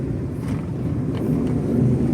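Steady low engine rumble of a non-turbo Suzuki DA17V minivan on a test drive, a continuous road drone from inside the vehicle with slight swells, no voices.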